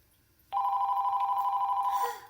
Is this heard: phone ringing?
yes